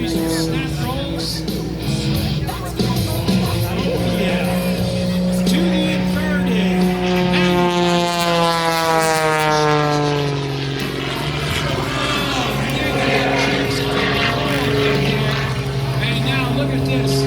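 A Prometheus aerobatic propeller airplane at the Martinsburg airshow performs a series of snap rolls, its engine droning loud and close, then rising and sweeping in pitch as the aircraft climbs and maneuvers, with a commentator talking over it.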